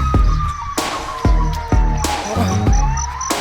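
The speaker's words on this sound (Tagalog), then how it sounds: "bumbero, parang may sunog yata guys." A loud wailing fire truck siren holds steady over repeated heavy rhythmic thumps, close and continuous throughout with no voices.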